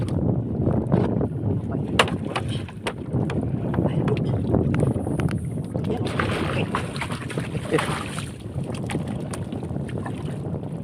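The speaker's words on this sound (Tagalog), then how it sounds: "Medyo lumalakas na yung hangin" Strong wind buffets the microphone with a constant roar and gusty rumble at a fish corral fishing site, while voices speak intermittently underneath.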